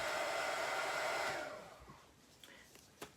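A handheld heat tool blows hot air over resin for a shaker keychain, a loud steady whooshing roar that cuts off partway, leaving a few small clicks and taps in the quiet.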